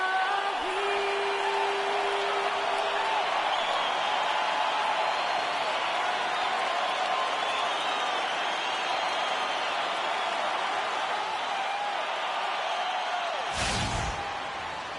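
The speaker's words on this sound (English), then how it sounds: "We've got an electric crowd here at Toronto's Air Canada Centre." Arena crowd roars in the basketball game NBA 2K at Toronto's Air Canada Centre on opening day, a dense sustained cheer that swells and holds, ending with a sharp thump.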